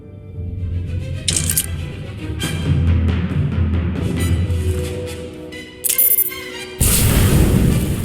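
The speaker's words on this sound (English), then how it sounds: "Sir, reports of an explosion near the ion cannon." Explosion near an ion cannon in the Star Wars: The Old Republic video game, heavy rumbling booms and cracking blasts rolling on throughout with sharp bright bursts near the end, loud and close, with no talking.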